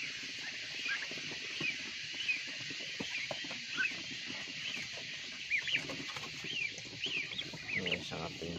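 Young turkey chicks, about a month old, peep in high, thin chirps scattered through the recording, fairly faint, with occasional rustling and a voice talking in the background.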